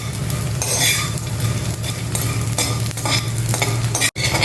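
Edible gum (gond) sizzles and crackles steadily as it puffs up in hot ghee, with a loud, continuous frying hiss and occasional stirring clinks from a utensil throughout.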